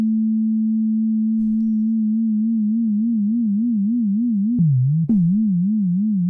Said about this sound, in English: what we're hearing here is the effect of operator 6 modulating operator 5, and to all intents and purposes, this is really behaving like an LFO